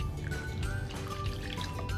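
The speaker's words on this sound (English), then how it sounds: "And also mixes up your beef broth. You want to pour that in there." Beef broth poured into a cooking pot of goulash, a steady close liquid splash and trickle running continuously with dripping accents.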